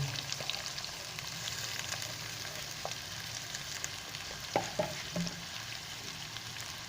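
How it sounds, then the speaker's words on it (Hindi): Onions fry in oil with okra for bhindi sabzi, a soft continuous sizzle with scattered light spoon taps and stirring clicks. "प्याज को अच्छी तरह हमको फ्राई कर लेंगे"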